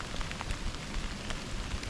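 Heavy rain from a mountain thunderstorm on the Shrikhand Mahadev trek above the tree line, a dense, steady patter of drops hitting surfaces, fairly soft and continuous with no voices.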